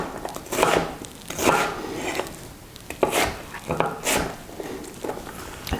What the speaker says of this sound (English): When you're cutting an onion and then you're trying to keep it in place